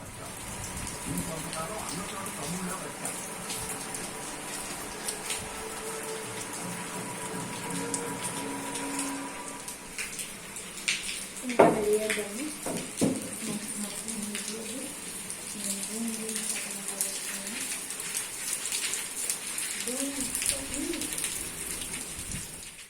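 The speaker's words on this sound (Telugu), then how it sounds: "వర్షం ఇందాకడి మీద కొంచెం పెద్దదైంది, పెద్ద జల్లు పడుతుంది." Rain falls steadily outdoors as a growing shower, a dense continuous wash with dripping and splashing, with birds and faint voices in the background.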